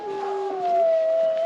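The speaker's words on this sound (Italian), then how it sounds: "Intanto sentite il rumore dei cani" Dogs howl in a long, sustained wail with a second overlapping voice, fairly close and loud, the pitch sliding gently as the howl continues alone.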